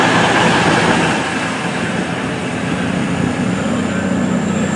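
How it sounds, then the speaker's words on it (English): Voyager passenger train, unit 220021 running to Manchester Piccadilly, pulls into a station with a loud, continuous rumble of wheels and engine that eases slightly as it comes in. "Here comes a Voyager running to Manchester Piccadilly, 220021."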